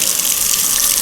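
Water runs steadily from a faucet in a newly built desert farmhouse, a continuous bright splashing hiss at close range with no voices over it.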